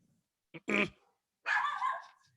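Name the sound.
dog barking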